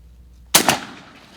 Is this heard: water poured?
no